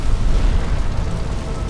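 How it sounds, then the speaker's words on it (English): Tanker exploding after a U-boat torpedo attack on a wartime convoy, a loud deep rumbling roar that holds steady and heavy without a sharp onset, with no speech. "it has a typical tanker explosion."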